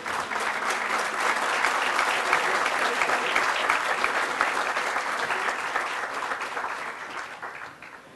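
An outdoor crowd at a university campus ground blessing in Hawaii applauds the council members just introduced, a dense burst of clapping that swells and then tapers off over several seconds.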